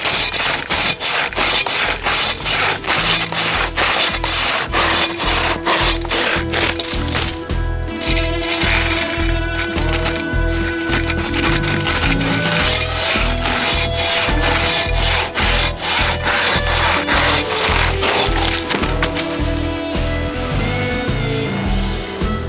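A KATANABOY 500 pull saw with large teeth rips through wood on a farm, loud rhythmic rasping strokes in a fast, steady back-and-forth cadence that continues throughout.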